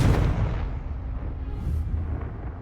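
The Confringo blasting spell in Hogwarts Legacy goes off with a heavy explosive boom that opens the sound, followed by a rumbling decay and a brief hiss of debris as it fades.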